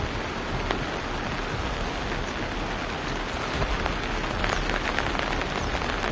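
Heavy rain during a windstorm in the Malnad region near Chikkamagaluru, a dense continuous hiss of downpour drumming on surfaces, steady and loud throughout with no voices.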